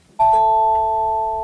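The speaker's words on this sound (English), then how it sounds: "the bell's gonna ring any second now." A school bell rings once with a sharp electronic ding-dong chime that sustains steadily and loudly, fading only slightly over more than a second.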